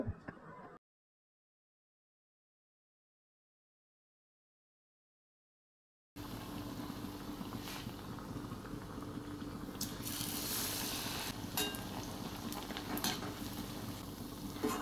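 Aloo chop, potato dipped in gram flour batter, frying in oil over low to medium flame: a steady close crackling sizzle with scattered sharper pops, coming in after a long stretch of silence and holding to the end, no talk.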